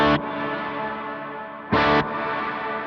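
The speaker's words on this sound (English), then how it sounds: "So this is what it sounds like with the pre-delay on." Electric guitar chords strike twice through a reverb set with pre-delay, each bright attack followed by a sustained, washy tail that lingers between strums, with no talking.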